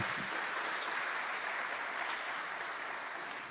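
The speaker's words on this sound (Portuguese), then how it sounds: "Pode aplaudir mais uma vez." An audience at a Catholic talk on consecration to the Virgin Mary gives a dense, steady burst of applause, filling the whole moment without speech.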